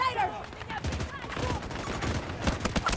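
Rapid bursts of video game gunfire from a building fight, a fusillade of shots crackling loudly and continuously, with faint voices underneath.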